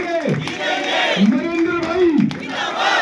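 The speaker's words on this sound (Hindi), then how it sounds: "मैं आप सब जोरदार तालियां बजाइए नरेंद्र भाई के समर्थन में।" A political crowd cheers and chants in loud rhythmic bursts of massed voices in support of a candidate, close and energetic across the whole stretch.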